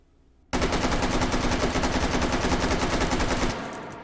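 Sustained automatic fire from an AK-101 rifle with a muzzle brake fitted, in the VR shooting game H3VR: a loud, rapid continuous burst of about three seconds, then a fading echoing tail.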